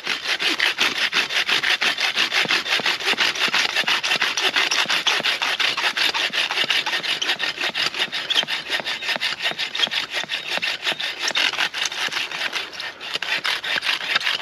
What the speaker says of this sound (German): wenn du da eine leichtere Säge durch das Holz bewegen musst, geht das schon einfacher